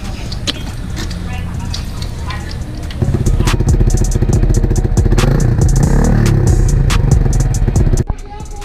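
Motorcycle with a newly fitted aftermarket exhaust pipe, idling with a crackling putter, then revved harder for several seconds into a loud, rapid burbling roar before cutting back down, close to the machine.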